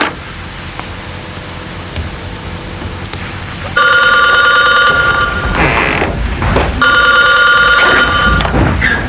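A telephone rings indoors in an old Pakistani TV drama, two loud bursts of a bright electronic ring separated by a short pause, over a low hum and some background clatter.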